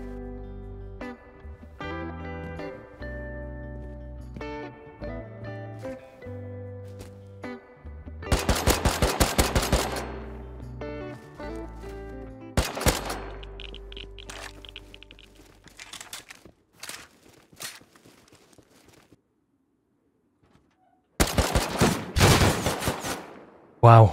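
An M2 heavy machine gun firing in the survival game Rust, heard as loud bursts of rapid shots between quieter stretches of clicking and shuffling, with a final burst near the end.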